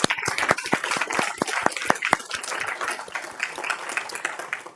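Clapping breaks out at a county commissioners court meeting, a few distinct loud claps at first blending into scattered group applause in a room that tapers off toward the end.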